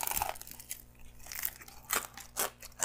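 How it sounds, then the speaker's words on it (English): Crunchy fried duck with bones being chewed up close, with a steady run of sharp, crackling crunches and bites with short pauses between them. "they're just kind of hard to eat, super crunchy, but then you can get into that the chewiness of the meat"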